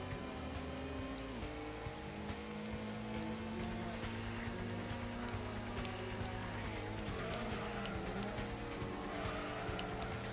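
A race car engine drones in Gran Turismo, its pitch rising and dropping through gear changes, with tires squealing through corners while battling an NSX, loud and steady.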